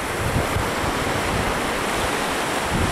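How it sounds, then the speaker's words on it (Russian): Rough sea surf and strong wind roar along the Baltic seashore at Vecāķi near Riga, a dense, unbroken rush of waves and gusts that stays loud and close throughout. "Сегодня ветер, море неспокойное."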